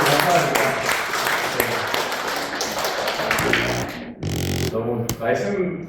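Applause from the audience at a 2022 teachers' seminar, dense clapping that runs for several seconds before breaking off, then sparser claps with a voice speaking over them.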